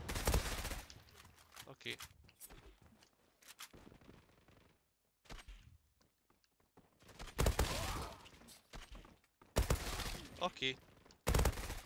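MP5 submachine gun fire in the shooter game Zula: sharp, loud bursts of rapid shots separated by quiet pauses, with a player's voice talking between them.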